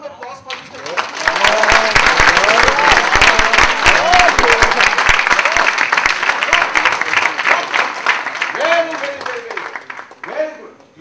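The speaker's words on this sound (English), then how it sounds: "Can we have a round of applause for" An audience at a university workshop on company law and corporate governance bursts into sustained applause, a loud, dense burst of clapping that swells and holds, while a speaker's voice carries on over it.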